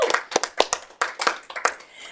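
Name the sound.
audience applause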